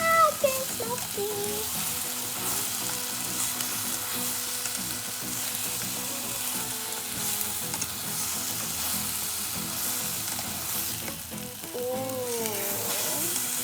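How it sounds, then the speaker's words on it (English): Scrambled eggs with pepper sizzle steadily in an electric hot pot while being stirred, a continuous close frying hiss throughout, with a brief murmured exclamation near the start. "keep stirring. And now that I added some pepper, let's keep stirring"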